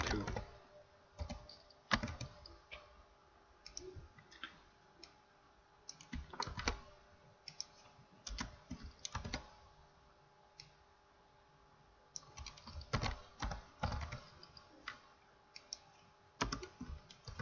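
Typing on a computer keyboard in short bursts of quick, close clicking keystrokes with pauses between, at a moderate level over faint background hum.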